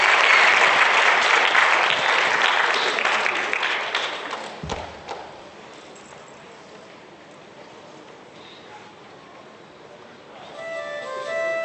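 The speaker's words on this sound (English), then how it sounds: "please give them a round of applause" Audience applauding the Congolese Student Association at an Africa Day 2017 event: loud, dense clapping for about four seconds, then fading to a quieter murmuring room, with a rise in noise and a faint tone near the end.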